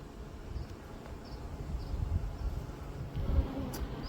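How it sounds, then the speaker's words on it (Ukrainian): Honey bees buzz around an open hive. A steady low drone with soft rustling and a few faint, brief higher notes carries through the whole moment at moderate loudness, with no clear speech. "Бджоли працюють."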